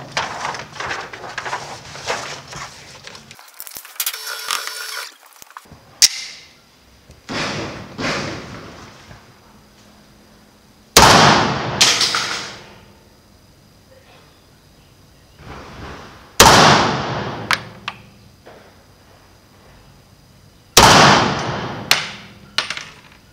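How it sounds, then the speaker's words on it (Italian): Five sharp, loud 9x21mm shots from a Beretta 92X Performance pistol ring out one at a time with long gaps, each crack decaying into echo. "Voglio vedere, facendole sparare 5 colpi, cosa è in grado di fare."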